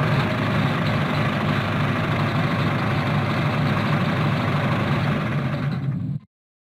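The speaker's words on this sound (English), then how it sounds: "Tractor." A tractor engine runs alone at a steady idle, giving a loud, dense, continuous low rumble that holds without change and then stops abruptly.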